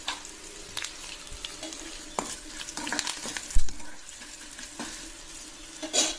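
Curry leaves, turmeric and asafoetida fry in hot oil with a steady crackling sizzle, broken by a few sharp spoon clinks and stirring scrapes against the pan, heard up close without speech.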